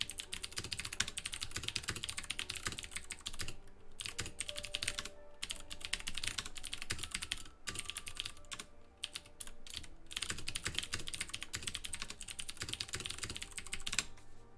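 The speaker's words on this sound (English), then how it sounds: "let me type out a strongly worded" Someone types a message on a computer keyboard: a steady, quick clatter of keystrokes with brief pauses between bursts, quiet and close, with no voices.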